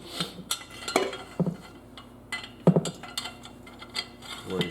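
A metal wrench clinks and scrapes against a rear control arm bolt on a BMW 6 Series, several sharp metallic knocks and rattles at irregular intervals, close and moderately loud with no talk.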